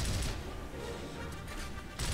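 Gears of War gunfire bursts out in a dense, heavy blast that eases briefly and then flares again at the end, loud and close with no voices over it.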